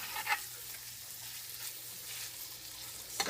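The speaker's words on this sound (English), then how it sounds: "you can hear how much it's sizzling" Quiet, steady sizzling of food frying in a pan on moderate heat for penne, chicken and pesto, with a couple of brief louder crackles, heard alone without talk.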